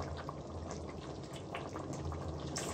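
Water being poured into a pot of aloo gosht, a steady splashing, bubbling wash of liquid that continues evenly throughout, close and moderately loud with no talk.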